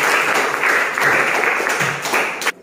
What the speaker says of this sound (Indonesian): aplaus untuk Vira